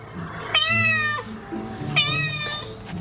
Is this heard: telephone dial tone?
no